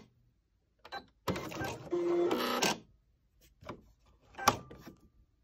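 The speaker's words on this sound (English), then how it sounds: "I can just push this button when I'm done and it'll cut the thread for me" Sewing machine with an automatic thread cutter, triggered by a push button, running through a short burst of mechanical whirring and clicking, followed by a few fainter clicks and taps.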